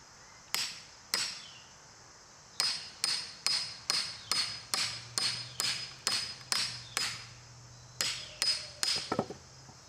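Sharp metallic hammer strikes on the back of an axe splitting campfire wood ring out one after another, first two spaced blows, then a fast steady run of about a dozen, ending in quicker taps.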